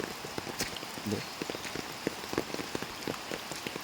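Steady patter of rain hitting a surface, dense broadband hiss with scattered louder drops, fairly close and continuous.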